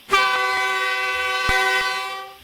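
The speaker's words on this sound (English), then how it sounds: "Here's the secondary horn." A QJ steam locomotive's secondary horn in the Trainz video game sounds one loud, sustained blast close by, holding steady for about two seconds before fading, with no talking.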